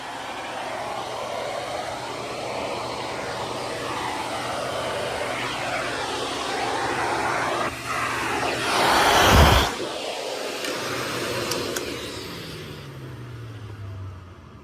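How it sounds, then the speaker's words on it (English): A Hoover Constellation Model 86 vacuum cleaner, its hose locked in to work as a blower, runs with a steady, close whooshing drone. A sharp burst of airflow rises midway, then the motor winds down near the end. "you take and lock the hose in. And it gives you the capability of a blower."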